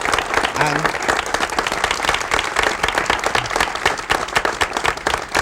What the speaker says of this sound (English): I think we ought to give Jesse a round of applause for Black Expo.